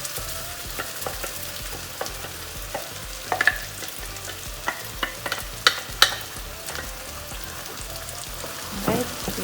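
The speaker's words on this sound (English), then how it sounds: "Give that a good mix." Tomato paste being stirred into a Chicken Mughlai gravy in a pan, with scattered scraping spoon strokes over a steady low simmer and light sizzle, close by and moderately loud, with no one talking.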